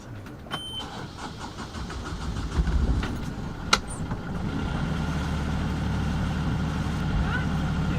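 A sailing boat's inboard engine on a cruise along the Spanish coast, anchored for the night: a few clicks and a cranking start, then a low, steady idling drone that keeps running to the end, with some faint voices early on.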